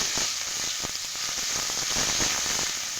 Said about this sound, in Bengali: তো দেখো এইভাবে একটু নুন দিয়ে ভালোভাবে সবজিটাকে কষিয়ে নিচ্ছি